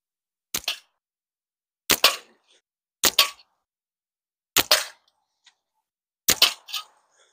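A Pocket Predator Hiker slingshot fires five times, each shot a sharp, close crack with a short tail, spaced roughly a second or more apart against near silence.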